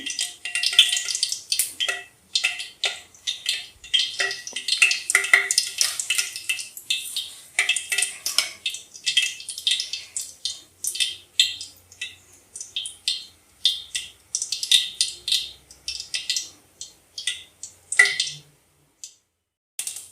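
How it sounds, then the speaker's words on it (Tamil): Mustard seeds spluttering in hot oil while tempering for a raw banana stir-fry, a dense run of sharp crackling pops in uneven bursts for the whole stretch, close and fairly loud, no voices. "கடுகு பொரிஞ்சிச்சு, இப்போ கருவேப்பிலை போட்டுக்கலாம்."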